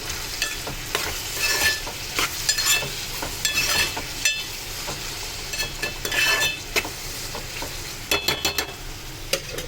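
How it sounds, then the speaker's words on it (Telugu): Cucumber and prawn curry cooking in a pan, with a steady sizzle and frying hiss and repeated stirring scrapes and light utensil clinks throughout. "దోసకాయలు అయితే ఉడుకుతున్నాయి"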